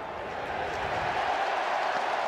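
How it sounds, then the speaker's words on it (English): Baseball crowd at Target Field rising to its feet, a broad steady roar of cheering and scattered clapping that swells slightly, with a voice faintly present beneath. "Crowd on its feet here at Target Field."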